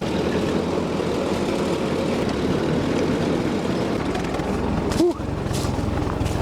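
An old tractor engine runs in cold January weather, a loud, steady low rumble that fills the whole stretch, close by, with a brief clunk near the end.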